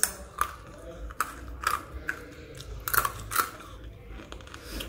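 Crunchy homemade murukku, a fried Tamil snack, bitten and chewed close to the mic, giving a series of sharp crackling crunches at irregular intervals, with quiet chewing sounds between them.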